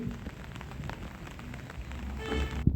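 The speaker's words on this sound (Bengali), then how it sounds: "সারাদিন ধরে এতই বৃষ্টি হচ্ছে যে ঠিকমতো ছবি তোলা আর ঘোরাও খুব অসম্ভব হয়ে পড়ছে" Heavy rain falls steadily in Cape Town, a dense, continuous patter and hiss of drops hitting surfaces, with no voices over it.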